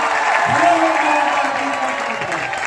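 Crowd applauds at an anniversary event, steady dense clapping that fills the room while a voice speaks over it briefly.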